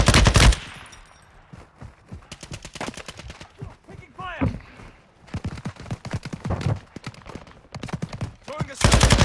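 Rapid bursts of automatic gunfire in the video game Call of Duty: Modern Warfare II, with dense clusters of sharp shots coming in waves, loudest at the start and end, mixed with in-game voices talking.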